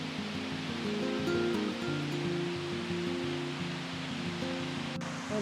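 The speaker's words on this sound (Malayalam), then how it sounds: "നമുക്ക് ഒച്ച കേൾക്കാൻ പറ്റുന്നുണ്ട് വെള്ളത്തിന്റെ" Rushing water from a nearby waterfall on a Blue Mountains cliff track gives a steady, broad wash of noise, with no speech over it.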